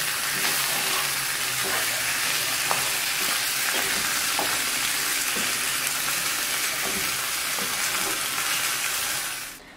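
Ajvar of roasted red pepper and eggplant cooks in a pot with a constant loud hiss and sizzle, broken by faint scrapes of stirring, before the sound fades out.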